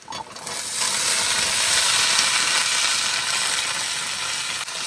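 Onions and kenduli frying in a pan give off a loud, steady close-up sizzle with broad hissing crackle that runs continuously, with no voices.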